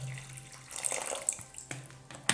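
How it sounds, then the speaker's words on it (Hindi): Water poured from a tap onto a Realme Narzo 30 smartphone during a durability test, a close, steady splashing stream with a few sharper drips and spatters. "यहाँ पर मैं पानी को डाल रहा हूँ"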